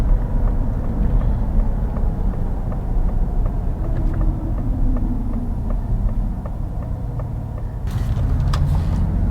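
Ford Mustang Mach-E GT electric car on the move, heard from inside as a constant loud road and motor hum with a faint whine and occasional light clicks, no talking.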